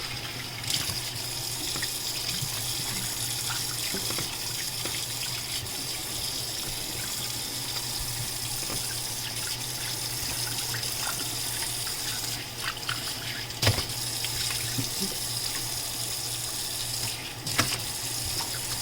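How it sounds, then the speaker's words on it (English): Running tap water pours into a kitchen sink as it is washed out, a steady, moderately quiet rush with a few small clinks and knocks along the way. "All we got to do is soap our sink out, wash it out"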